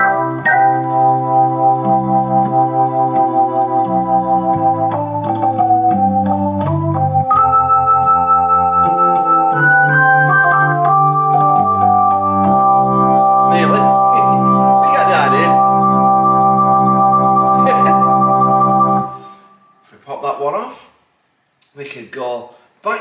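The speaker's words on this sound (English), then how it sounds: "Or if into jazz, you can have a nice jazz organ. With a fast and slow, what they call a tremolo on your pedal." A Yamaha CLP-875 Clavinova digital piano set to a jazz organ voice holds loud, sustained chords that shift in a slow progression, with a wavering tremolo effect, before cutting off into brief talk near the end.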